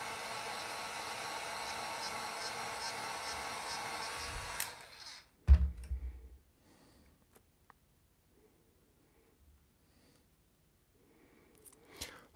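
A hair dryer blows steadily on fresh paint on a repainted Man-E-Faces He-Man action figure for about five seconds, then cuts off with a thump and handling knocks before near silence.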